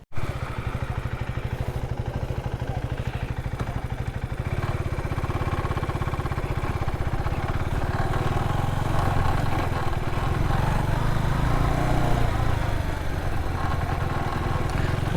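A KTM Adventure 390 motorcycle engine runs at an off-road dirt park, starting abruptly and holding a loud, steady, close-up throb with a clattering mid-range rumble throughout, with no talking.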